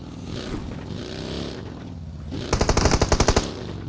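Automatic rifle fire in PUBG Mobile rattles out in two rapid bursts of evenly spaced shots, standing out over a constant engine-like background drone.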